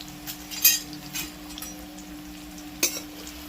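Chopped onions fry in hot oil in a pot over a wood fire until reddish brown, a soft steady sizzle with occasional stirring clinks and utensil scrapes, fairly close and without talk.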